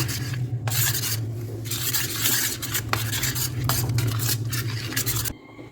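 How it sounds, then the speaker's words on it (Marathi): Spiced green pea filling for masala puri being stirred and mixed in a metal pan, a steady scraping and stirring with light utensil clinks throughout, close and fairly loud, stopping just before the end. "आता आपण सगळं हे मिश्रण मस्त मिक्स करून घेऊ"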